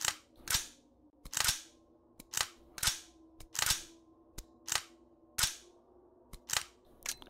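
Civilian-set firearm sounds in the ModulAR2 game: a series of sharp, clacky single gunshots spaced unevenly, each with a short snappy tail, plus lighter metallic bolt clicks between them.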